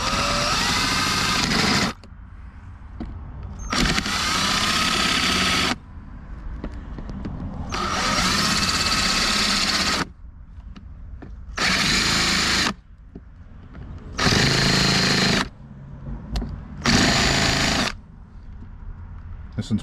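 A power drill deburring the top of a rivet on a Jeep Commander door handle, several loud whining bursts of a few seconds each separated by quieter gaps, close up.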